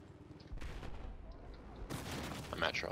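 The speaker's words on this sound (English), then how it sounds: "Explosions." Battlefield 4 gunfire and explosions rumble at moderate loudness, with a sharp burst partway through and a busier crackle of shots near the end.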